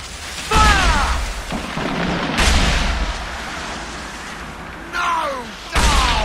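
Ship cannons boom in Assassin's Creed 4 Black Flag during a naval battle, with several loud blasts at irregular intervals over shouting crew voices and rumbling background noise.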